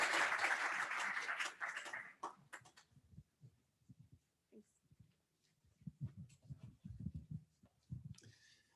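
An award ceremony audience claps, a dense burst of applause for about two seconds that trails off into scattered claps, followed by a faint voice speaking in a quiet room.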